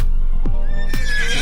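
A Shire horse gives a loud, close neigh, a series of sharp rising and falling whinny calls over about a second and a half, heard alone with no talking.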